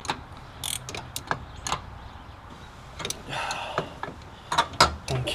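Wrench ratcheting as bolts are snugged on the front end of a 1972 Oldsmobile Cutlass, with short irregular clicks and metallic clanks close by in a garage, interspersed with brief pauses.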